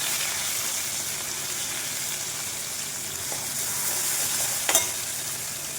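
Onion, garlic, coriander and curry leaves fry in oil for a fish curry, giving a continuous close sizzle with a brief stir or clatter near the end and no talking.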